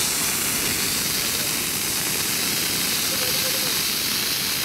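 A fire extinguisher discharges at flames with a loud, steady rushing hiss that fills the whole moment without pause, close and uninterrupted.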